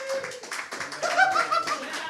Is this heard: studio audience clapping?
yes